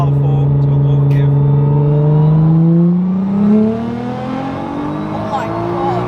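A 1200bhp Nissan GTR accelerating hard in third gear, its loud engine note rising steadily in pitch, dipping briefly midway, then climbing again.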